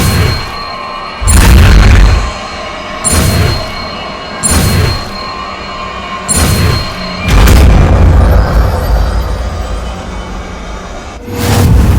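Confringo explosive spell practice in Hogwarts Legacy: a series of loud, deep booming blasts, about five or six spaced a second or two apart with rumbling tails, plus a sharp final burst near the end.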